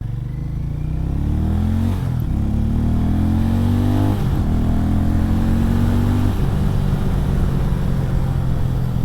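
A loud Hero Mavrick 440 motorcycle engine revs and accelerates in repeated rising surges, close and continuous, with no voices.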